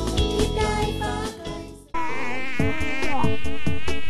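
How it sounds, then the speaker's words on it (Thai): A fly buzzes near a cake, a loud, continuous wavering drone that dips briefly before returning at full strength. "เฮ้ยไปไกลๆนะไอ้แมลงวันบ้า"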